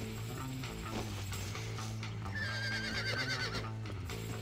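A horse in the video game Red Dead Redemption neighs faintly in the background amid mechanical clicking and a steady low hum, the whinny rising briefly midway.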